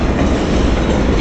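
Norfolk Southern manifest freight train with three locomotives, led by unit 8361, pulling out from a stop on the mainline: loud, close rumble and steady clickety-clack of rolling cars, no voices.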